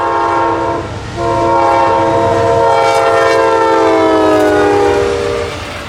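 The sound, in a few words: Amtrak Auto Train passing at dawn, horn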